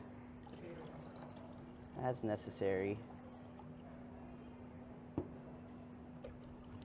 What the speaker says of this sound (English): And then you could pour out excess water